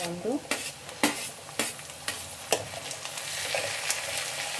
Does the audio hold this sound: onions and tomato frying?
yes